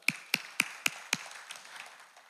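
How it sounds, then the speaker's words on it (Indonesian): Five sharp claps from a church congregation in Surabaya ring out in a steady rhythm, then trail off into scattered faint pats in a reverberant hall. "Boleh tepuk tangan dulu, Saudara?"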